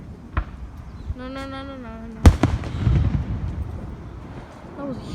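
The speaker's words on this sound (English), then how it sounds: "That was a huge explosion." Fourth of July fireworks bursting nearby outdoors: a sharp close boom followed by crackling and a rolling rumble, with whistling streaks before it and people exclaiming over the blasts.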